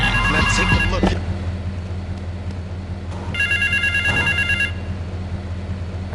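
In the video game GTA III, a payphone in South Belleville Park rings in two electronic trilling bursts a couple of seconds apart, heard over a steady low rumble of traffic and city ambience.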